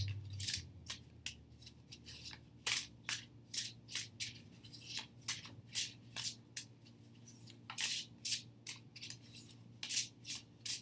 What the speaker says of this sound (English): Of course, it shuffles like a dream.